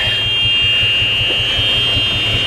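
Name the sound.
golf cart backup alarm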